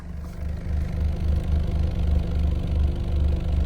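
Low, steady hum of a 2004 Pontiac Vibe engine running quietly, a soft rhythmic idle throb with faint clatter and no voices.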